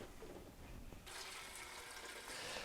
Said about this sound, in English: I'm going to just go ahead and fill this back up here.